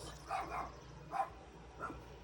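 Dogs bark a few times in short, spaced yaps near a backyard garden, fairly faint and moderately distant with no talk over them.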